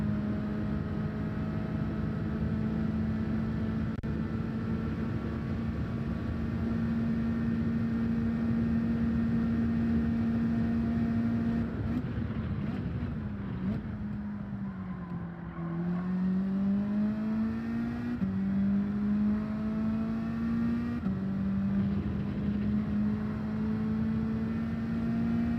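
A Mazda 3 race car engine in the video game Gran Turismo 7, a continuous humming drone that holds level, then sags and climbs again as revs shift, without speech.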